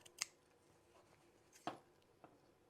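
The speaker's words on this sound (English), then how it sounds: "Now I take my pinking shears and I trim away a little bit all the way around" Pinking shears snip through fabric while trimming around an Easter egg sewing project, with two or three separate crisp cuts spaced apart and a quiet, low background between them.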